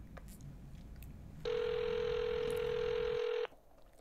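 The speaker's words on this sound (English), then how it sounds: "It's ringing." Telephone ringback tone on an outgoing call to a Best Buy store, one steady loud tone lasting about two seconds over faint room noise, with quiet background between.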